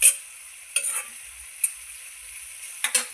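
Onion, curry leaves and green peas frying in a pan, a steady soft sizzle with a few sharp stirring scrapes of a spoon against the pan, close and alone.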